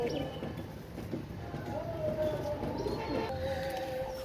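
Pakistani pigeons coo softly in a loft, low murmuring calls at moderate distance under background noise and faint shuffling, with no talk heard.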